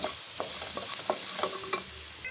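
Ginger paste frying on a low flame in a pan, a soft continuous sizzle broken by light scraping stirs every half second or so, fairly quiet and close.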